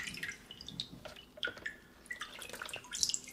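Water rinsing and dripping during a child's bath, with scattered close drips and small splashes falling irregularly over a quiet background.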